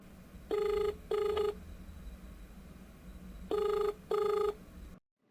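An outgoing telephone call rings on the line: two paired ring tones, a short gap, then two more, before the sound cuts off abruptly.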